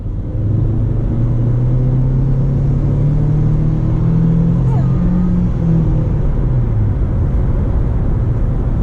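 A 2017 Nissan Sentra economy car accelerating under throttle: a steady engine drone that rises gradually in pitch, then drops away, over constant cabin road rumble.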